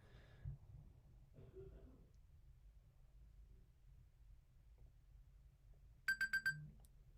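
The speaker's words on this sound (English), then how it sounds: "And that's the timer." A kitchen-style timer alarm goes off near the end with a quick burst of four loud, high electronic beeps after a stretch of quiet room tone, with faint movement noises before it.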